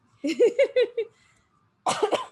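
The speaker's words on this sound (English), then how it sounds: "Told you it wouldn't be my last cough" A burst of four or five quick, harsh coughs close to the mic, a brief quiet pause, then another cluster of loud coughs.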